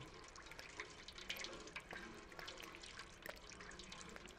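In the video game Stray, water runs and trickles steadily while a cat drinks, soft and close, with faint drips and no voices.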